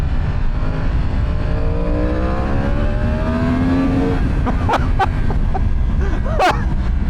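A Yamaha R1 motorcycle pulls hard in first gear, its engine note climbing steadily over a heavy rumble of wind, followed by a few sharp bursts and clicks near the end.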